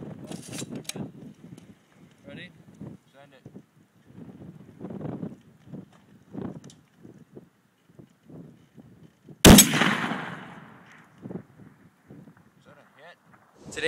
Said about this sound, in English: If you can hear the ding of bullet hitting metal